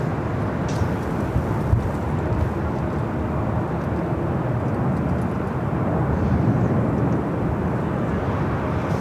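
A Delta Boeing 767-300ER airliner roars through its takeoff at Los Angeles airport, a loud, continuous, rumbling jet-engine noise that stays heavy and unbroken throughout.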